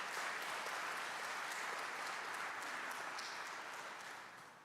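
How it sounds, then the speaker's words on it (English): At a fall convocation, an audience claps for the choir: steady, dense applause throughout, fairly distant and soft, tapering off slightly near the end. "Let's give our choir another hand clap of praise here."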